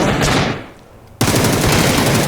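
Rapid automatic gunfire in the PUBG video game, a loud close burst that fades briefly, then another dense volley of fast shots resumes sharply.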